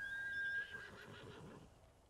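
A single horse in a video game whinnies briefly and fairly faintly, the call trailing off into quiet background.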